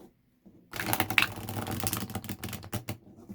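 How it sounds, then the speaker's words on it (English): A deck of playing cards on smooth cardstock is ruffle shuffled, giving a quick, dense burst of crisp fluttering clicks lasting about two and a half seconds after a short near-silent lead-in. "I like a cardstock that I can ruffle shuffle really easily"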